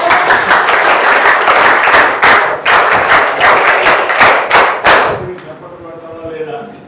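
Loud, close applause from a group of school students fills the space in dense, uneven bursts for about five seconds, then cuts off abruptly, leaving a voice talking alone.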